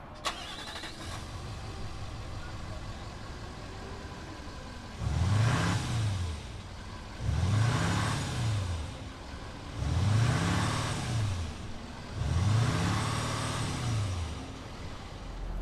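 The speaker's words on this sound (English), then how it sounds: "But why don't we go ahead, fire up this engine," A 2019 Nissan Titan Platinum Reserve pickup's engine cranks and catches, then is revved four times in quick succession, each rise and fall of the motor loud and close against a quiet idle.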